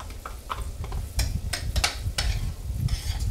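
Grilled vegetables being stirred into cooked bulgur in a pan, a series of close clinks and scrapes of a utensil against the pan with soft mixing sounds in between.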